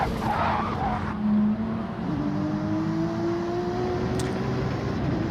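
Race car in Gran Turismo 7 spinning out after contact in a Gr.3 online race, with a steady engine drone and tire skid squeal sliding in pitch across the whole stretch, fairly loud and with no talking.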